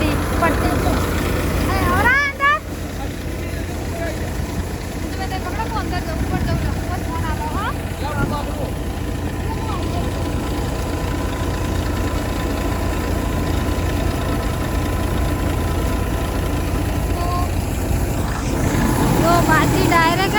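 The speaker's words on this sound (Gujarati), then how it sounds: "અને આ ઠેસર ચાલુ છે, બાજરી છે ને ઓટોમેટિક જ ઠેસરમાં પડતી" Millet (bajra) thresher driven by a tractor engine running on a farm, a continuous steady mechanical drone and rattle throughout, with people talking over it.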